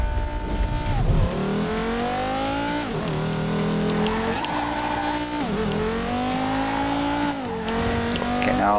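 A race car in Ridge Racer Unbounded drifts with a loud, sustained tire squeal that rises and falls in pitch over a steady engine roar, close and continuous.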